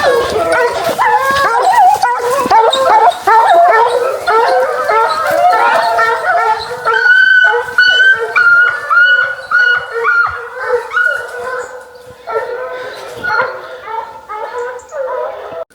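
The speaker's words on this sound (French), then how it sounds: "tous les chiens sont groupés en meute" A pack of hunting hounds on a pig hunt bays and yelps continuously, many dogs barking close and loud at once, with high whimpers and howls mixed in and a few short pauses toward the end.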